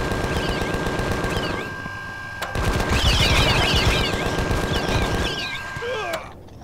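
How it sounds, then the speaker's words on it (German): A minigun fires in the space survival game Empyrion Galactic Survival, long loud bursts of rapid automatic fire with a short break in the middle, plus other game effects and a faint hum underneath. "Dann sind ja meine 1000 Schuss hier schnell weg von der Minigun."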